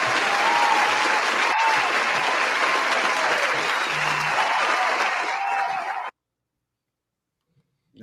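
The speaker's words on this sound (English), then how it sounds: "Round of applause for Judgment Day" A crowd breaks into a loud dense round of applause at an awards show, clapping and cheering steadily for about six seconds before cutting off abruptly to silence.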